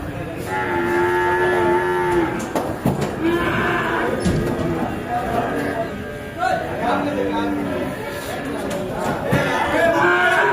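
Buffalo calves moo repeatedly at a livestock market in Jangareddygudem, their calls overlapping amid a busy crowd murmur, with some nearby voices talking.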